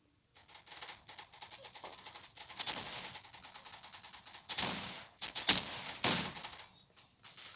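A pump shotgun fires repeatedly in a video game, with several sharp, loud blasts spaced unevenly over a few seconds, each separated by brief mechanical clatter.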